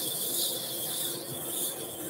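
Sandpaper rubs against a turned wooden hat box spinning on a lathe, a steady close-up hissing scratch that holds evenly throughout with slight swells.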